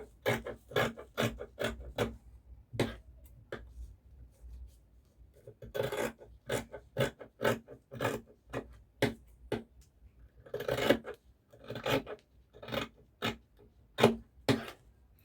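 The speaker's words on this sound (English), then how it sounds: "So now I'll go ahead and cut." Scissors cut fabric for a vintage collar in a quiet series of close, crisp snips and rasps, irregular and faint, with no talking.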